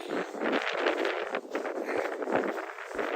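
Gusty wind buffets the microphone in rough, continuous bursts, loud and close, with no voices.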